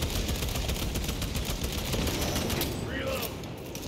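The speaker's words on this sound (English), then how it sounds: "What are you shooting at?" Gunfire in the video game Warhammer 40,000: Space Marine 2, as a dense, continuous fusillade of rapid shots filling the whole stretch, fading slightly at the end, with players talking over it.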